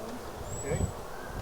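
A small cluster of a few dozen honeybees from a swarm buzzes softly and briefly near the microphone, a faint hum amid light rustling outdoors.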